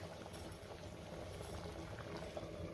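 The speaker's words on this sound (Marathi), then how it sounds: "छान उकळी आली आहे।" Dal khichdi comes to a boil in a pot over a medium gas flame, giving a faint, steady bubbling hiss that runs unbroken with no talking.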